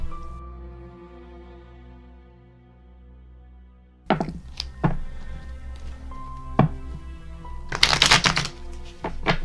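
A deck of tarot cards is shuffled after a sustained tonal hum fades out, with crisp riffles, taps and soft thunks of cards being handled, ending in a dense, rapid riffle burst.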